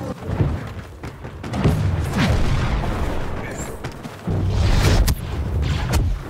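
Blaster fire in a Star Wars Battlefront 2 Heroes vs Villains match, a series of booming energy shots and thuds in a loud, busy battle mix, with bursts at several points.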